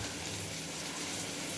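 Water is poured from a tumbler into a pan of ridge gourd curry, a steady, soft, continuous gush with no voice over it.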